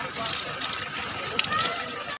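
Chillies being washed in water, with continuous sloshing and splashing and a brief louder splash near the end. A voice seems to murmur underneath before the sound cuts off abruptly.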